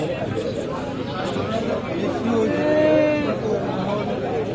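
A few goat bleats rise briefly amid people talking nearby at a Qurbani livestock market.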